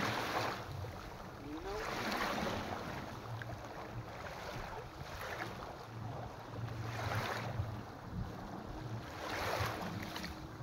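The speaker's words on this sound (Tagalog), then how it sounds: "Nandito na sa paa ko ang dagat." Waves wash in and break gently against the shore in slow, repeating surges, with wind noise rumbling over the microphone.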